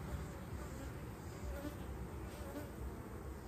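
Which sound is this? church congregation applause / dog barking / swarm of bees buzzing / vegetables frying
swarm of bees buzzing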